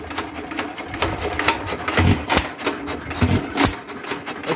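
A vintage Associated Chore Boy hit and miss engine in a barn runs muffled, giving a repeating series of dull thumping firing pulses with irregular gaps, fairly close and steady.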